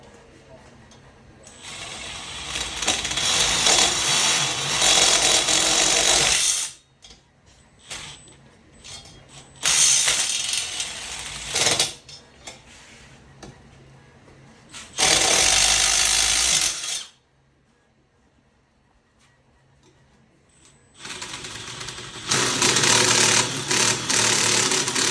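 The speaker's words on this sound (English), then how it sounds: "I am going to switch over to my 3/8 inch drill bit." A power drill with a 3/8 inch bit bores holes during a generic swing arm installation, sounding in several loud, sustained whirring bursts of a few seconds each, separated by quiet pauses.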